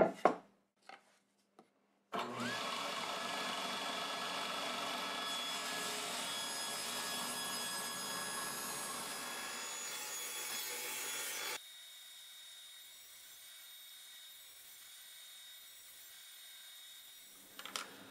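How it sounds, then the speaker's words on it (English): A cleaned wooden board is sawn into strips by a power saw, giving a loud, sustained whining cut for about nine seconds before the blade spins down to a lower steady hum, with a few knocks at the start. "I'm going to cut it into strips again."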